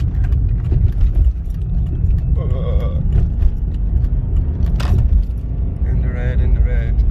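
A BMW E46 with a blown head gasket runs overheated, its temperature in the red, as a low, steady engine rumble fills the cabin, with a few light jangles and a voice speaking over it.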